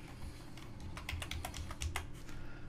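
Quick run of computer keyboard keystrokes as HTML code for a Bootstrap 4 button is typed in a code editor, irregular clicky taps clustered close to the mic with no voice over them.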